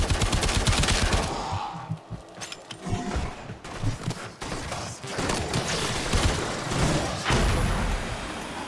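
Gunfire in Warframe, with dense rapid automatic bursts and thudding impacts, loud and nearly continuous, broken by brief pauses between volleys.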